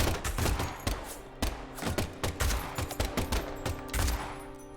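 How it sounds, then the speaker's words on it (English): Gunfire in the video game Deadly Premonition 2: a loud, rapid fusillade of sharp shots in uneven bursts, repeating steadily throughout with no talking. "Gunshot noises!"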